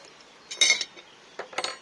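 Dishes clink and clatter outdoors as they are gathered up before washing, a few sharp metallic and ceramic knocks in uneven bursts, close by and with no talking.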